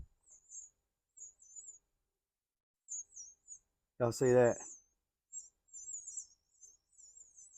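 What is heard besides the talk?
birds chirping in the shop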